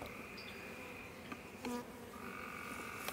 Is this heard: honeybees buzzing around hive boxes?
yes